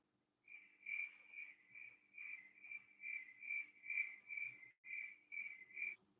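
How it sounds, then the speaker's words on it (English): Crickets chirp in a quiet setting: a series of short, high, evenly spaced trills pulse in a regular rhythm, faint and alone with no other sound behind them. "More crickets."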